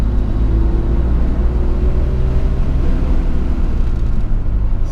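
A 1992 Nissan Skyline R32 GT-R with a stock engine, on stock tires and brakes, drones steadily at Suzuka Twin Circuit, a loud, continuous, close engine rumble with no talking.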